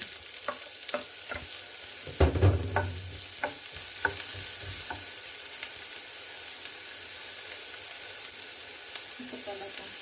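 Chopped onion for a beef samosa filling sizzles and fries in a pan, with a few sharp stirring clatters early on, then a steady soft hiss.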